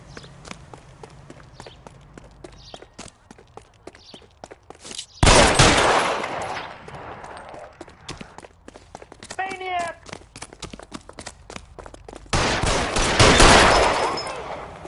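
Gunfire in the 1940s Los Angeles detective game L.A. Noire: quick clicks and footsteps, then two loud, sustained bursts of shots, with a character's voice shouting between them.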